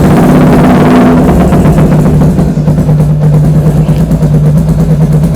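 A modified Yamaha Jupiter MX moped-class motorcycle idles with its aftermarket exhaust, a loud, steady, rapid burbling pulse that holds close and continuous throughout, with no talking.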